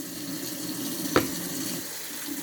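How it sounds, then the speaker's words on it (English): Cold water runs steadily from a kitchen sink tap, a close, continuous hissing splash with one brief louder splatter midway. "Now with the sink, you're gonna want the water to be as cold as possible."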